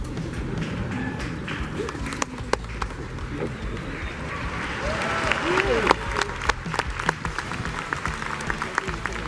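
A large crowd at Harvard's 2022 commencement applauds a speaker pausing to drink water: sharp, scattered claps over a rumbling crowd murmur, with some voices mixed in and the clapping swelling partway through.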